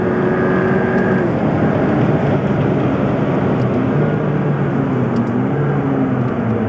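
A McLaren MP4-12C's loud, continuous exhaust roar rises and shifts in pitch as the car accelerates, a steady close-up drone with no voices.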